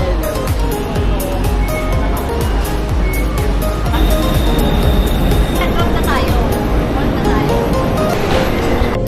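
Ride aboard a Bangkok metro train on the BTS, MRT or Airport Rail Link, with a loud, steady rumble and roar of the carriage and a brief tone partway through, under an announcement voice.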